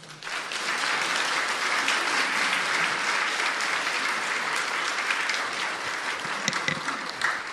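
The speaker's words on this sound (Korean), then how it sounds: "우리 박수로 환영하겠습니다" A church congregation at Ilsan Chungshin Presbyterian Church applauds to welcome a guest during Sunday worship, a dense, steady round of clapping that fills the room for several seconds.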